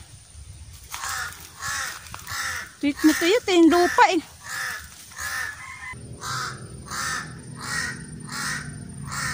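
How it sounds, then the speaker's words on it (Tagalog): Harsh, repeated caws from a crow ring out in a steady series, some close and loud, while someone talks briefly in between. "Huni ng huni yung uwak eh."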